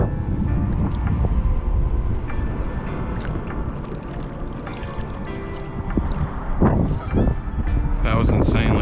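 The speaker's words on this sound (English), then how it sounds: "It's really, really windy right now." Strong gusty wind buffets the microphone beside a lake during spring fishing, a heavy continuous rumble with louder surges toward the end.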